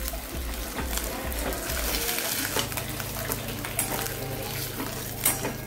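Chicken curry is stirred as it sautés in a pan, with the spoon scraping and clinking against the metal over a sizzle at close range, while voices speak faintly in the background.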